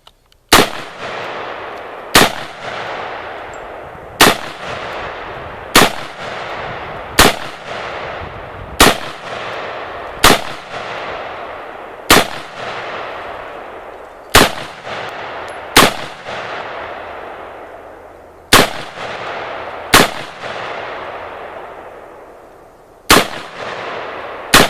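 A Miltac Industries AR pistol fires single shots at an outdoor shooting range, about fifteen loud, sharp cracks at irregular one-to-two-second intervals, each followed by a decaying echo.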